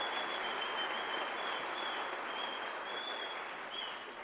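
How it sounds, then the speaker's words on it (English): Steady, dense applause from a large graduation ceremony audience fills the hall for its whole length, loud and even, fading slightly at the end with no voices over it. "Can we give them a round of applause?"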